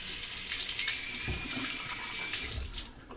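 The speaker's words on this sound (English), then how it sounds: "Now a slight rinse to the face" Tap water runs into a sink to rinse a face while shaving, a close steady splashing stream with brief hand-and-water sloshes, ending as the flow is cut.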